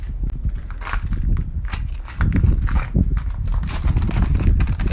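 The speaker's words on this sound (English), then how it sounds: "You can hear as I walk, just broken glass." Footsteps crunch across broken glass littering a Minneapolis street during post-protest clean-up, each step a loud, gritty crackle in an irregular walking rhythm close to the microphone.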